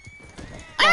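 Horse whinnying in the video game Red Dead Redemption 2: a quiet thin tone with soft hoof thuds, then a sudden loud, close neigh near the end.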